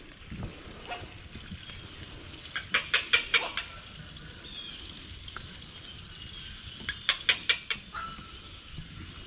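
Birds call inside a zoo aviary enclosure at a garden park, two bursts of rapid, sharp repeated chirps a few seconds apart over a soft background hum, fairly close and moderately loud.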